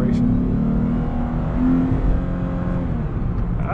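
Engine of a 2014 Lexus IS350 F Sport RWD accelerating on a night drive, heard from inside the cabin as a steady, rising drone with road rumble for a few seconds.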